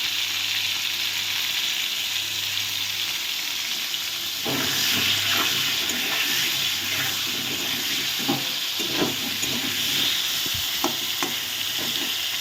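Potatoes fry in hot oil in a pan for a fish curry, giving a constant close sizzle broken by occasional light scrapes and taps of stirring, with no voices.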